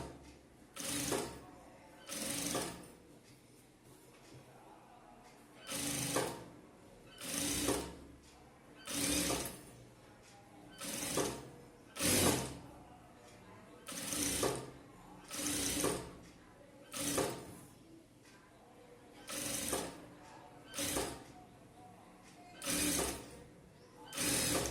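An electric sewing machine stitches piping onto a chudithar top, running in about a dozen short bursts with brief pauses between them, close and fairly quiet.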